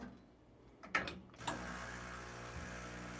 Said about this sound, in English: These modern day machines are really quiet, the vibrator pump.